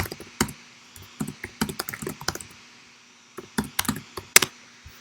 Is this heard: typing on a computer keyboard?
yes